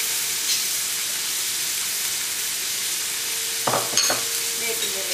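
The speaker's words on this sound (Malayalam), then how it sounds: "ഇഞ്ചി ചേർത്ത് ചതച്ച് വെച്ചിരുന്ന വെളുത്തുള്ളി ചേർക്കാം." Crushed garlic and ginger sizzle in a hot pan for Kerala-style beef fry, giving a steady, fairly quiet frying hiss throughout. A few brief stirring knocks come near the end.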